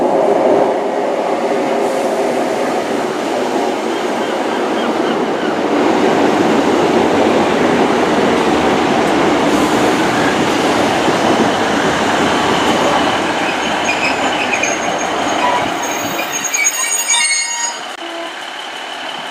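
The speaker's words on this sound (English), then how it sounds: "arriving now is the 1330 Great Western Railway service to Exeter Central from Paignton" A Great Western Railway Class 153 diesel unit, 153305, pulls into Dawlish station on the 13:30 Paignton to Exeter Central service, a loud sustained rumble of wheels and engine with brake squeal and clatter as it slows near the platform.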